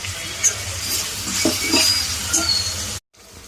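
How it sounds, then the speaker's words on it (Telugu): Pumpkin pieces fry in a pan for a traditional pumpkin pulusu, a close, soft sizzle with light stirring scrapes and small pops, steady for a few seconds before a brief cut. "కొంచెం ఇలా గుమ్మడికాయ ఇంకా కాసేపు వేగాలి."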